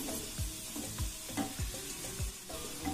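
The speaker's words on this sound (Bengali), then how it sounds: "খুন্তির সাহায্যে একটু নাড়াচাড়া করে নিচ্ছি।" Boiled okra stirred with a spatula in a pan, a regular run of soft scraping strokes about every half second over a gentle background hiss, no talking.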